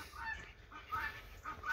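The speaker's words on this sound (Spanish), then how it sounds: "Estos patos ya son nacidos aquí, ya son de los que están acostumbrados a este clima." Farmyard ducks give three nasal honking calls in a steady rhythm, fairly close and moderately quiet.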